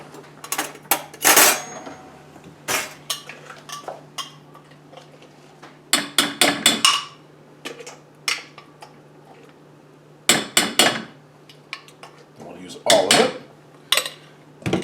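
A metal spoon clatters and taps against a cooking pot holding bucatini pasta, irregular bursts of sharp knocks and scrapes separated by pauses, close and fairly loud over a faint steady hum.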